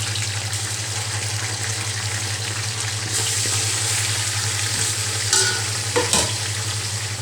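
Golden-brown onions with milk poured in sizzle and bubble in a pan while being stirred for beef salan, a steady close frying hiss with a few scraping stir sounds.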